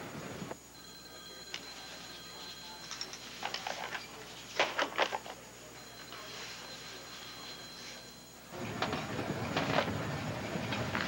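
A train rolls along the rails with a steady, moderately quiet rumble and intermittent clacks and rattles, its sound swelling toward the end with no voices over it.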